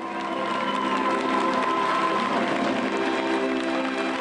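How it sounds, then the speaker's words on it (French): A standing audience at a Miss Bretagne pageant gives a loud, sustained ovation of dense applause mixed with cheers and whoops, steady from start to finish. "Une salle debout pour sa championne, de longues minutes d'applaudissements"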